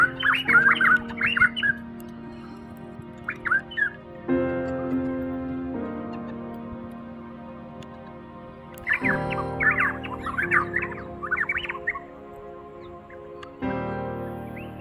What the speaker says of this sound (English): Hear the change in the call as these birds go into a frenzied chase?